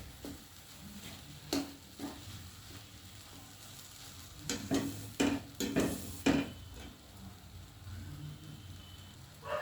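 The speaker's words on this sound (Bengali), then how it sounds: "এটাকে নেড়ে চেড়ে আমি আস্তে আস্তে এটাকে শুকিয়ে ফেলছি।" A spatula stirs an egg and roasted eggplant mixture in a pan over low heat, giving soft steady sizzling broken by several scraping clinks against the pan, quiet and close with no voices.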